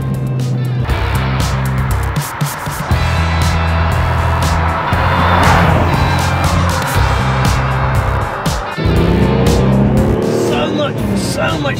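A Ferrari Testarossa driving on the road, its engine droning steadily and loudly throughout, with pitch shifts suggesting gear changes, while someone talks over it.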